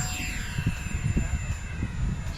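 The engine of an RC model airplane drones steadily at full throttle during a roll in aerobatic flight, heard at a distance over low rumbling wind noise.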